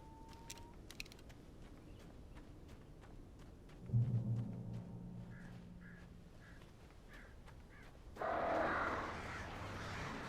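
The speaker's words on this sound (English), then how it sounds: "Birds." Birds cawing in the horror video game Alan Wake, several short crow-like calls repeating at mid distance over a dark ambient bed, with a louder rushing burst near the end.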